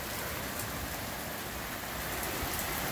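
Heavy rain pours down in Chicago's Norridge area, a loud, dense, constant hiss of drops hitting surfaces close by, with no speech.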